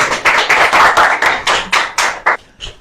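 Classmates clap for a student in a classroom, a group of hands beating together in a quick loose rhythm of about a dozen strong, slightly ragged bursts that end abruptly.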